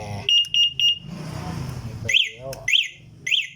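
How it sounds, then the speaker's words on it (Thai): Electric vehicle's anti-theft alarm gives a few short rapid beeps, then a pause, followed by a set of rising chirping tones that repeats three times, loud and close. "อ่านี่เป็นระบบกันขโมยใช่ไหม"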